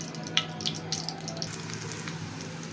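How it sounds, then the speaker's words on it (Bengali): Vegetable bora fritters shallow-frying in oil in a frying pan, a soft steady sizzle with small scattered pops and crackles, fairly quiet and close. "ফ্রাই প্যানে আমি আবার তেল দিয়ে বাদবাকি বড়াটি আমি এভাবে ভেজে নিচ্ছি"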